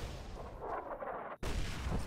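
An artillery shell bursts in the video game Fallout: New Vegas, a broad, rumbling blast that fills the scene and briefly cuts out before the roar resumes.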